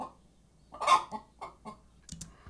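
A library chicken sound effect, one bird clucking in a few scattered, close calls with a louder squawk early on and quieter clucks after, no talk.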